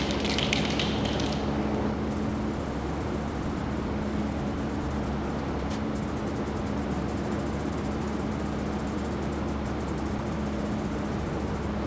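A steady, continuous hiss of spray paint on a body panel of a 1970 Ford LTD runs unbroken for the whole stretch, moderately loud and close, with no talking.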